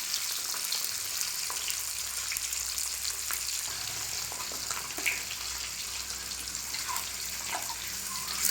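Eggs fry in a pan, a steady close sizzle and crackle running throughout while a spatula now and then scrapes and stirs them.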